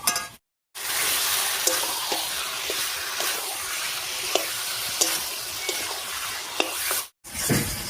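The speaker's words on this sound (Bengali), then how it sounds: "চিকেনটা দিয়ে সব কিছুর সঙ্গে খুব ভালো করে মিশিয়ে নিয়েছি। এই অবস্থায় 5-6 মিনিট মতো রান্না করে নেব।" Chicken and jackfruit sizzle in a pan while a spatula scrapes and stirs with regular clinks, a loud, close, continuous frying hiss that cuts out briefly twice.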